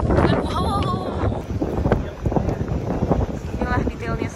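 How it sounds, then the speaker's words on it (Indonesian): Wind blows outdoors in Cologne near the cathedral, a loud gusty rumble buffeting the microphone throughout, with people talking under the roar. "Kebeneran windy loh guys, kayak ketiup-tiup angin kita."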